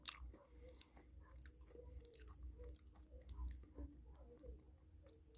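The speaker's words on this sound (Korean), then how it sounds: "이렇게 딸기 맛 한번 먹어보도록 하겠습니다" Someone eats a strawberry-flavored mini Pepero stick close to the mic, with soft repeated crunching and chewing sounds across the whole stretch, quiet and intimate, with no talking.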